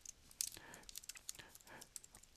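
Quiet keystrokes on a Mac keyboard as a login and password are typed, a soft irregular patter of clicks with one sharper tap near the start.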